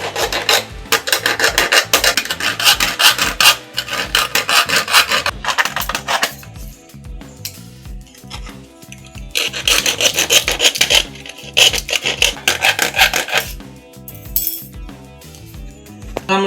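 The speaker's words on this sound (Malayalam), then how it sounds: "ഈ ഒരു പീസ് എന്നിട്ട് നമുക്ക് കട്ട് ചെയ്ത് കളയണം." Pipe is cut to length by hand for a fishing rod holder, with loud rhythmic rasping saw strokes in several bursts separated by short pauses and light clinks.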